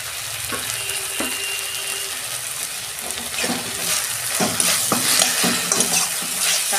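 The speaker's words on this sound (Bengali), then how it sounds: "এটা ভালো করে আমি কষাবো।" Ground coriander, cumin and Kashmiri chili sautéed with green chilies in a pan for prawn malai curry, a steady close sizzle with scraping stirs and occasional clinks of utensil on metal, no talking.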